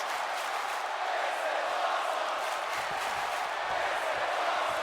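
Wrestling arena crowd cheering in the WWE 2K18 video game, a steady, dense roar of many voices sustained throughout at even loudness.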